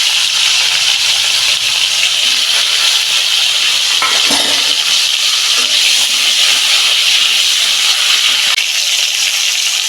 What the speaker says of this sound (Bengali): আমি উচ্ছেটা ভেজে দিচ্ছি